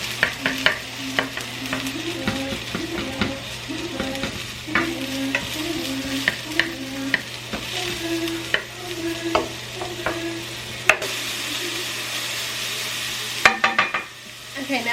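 Button mushrooms frying in oil in a pan, a steady sizzle with frequent stirring scrapes and clicks of a utensil throughout, close and fairly loud, no talking.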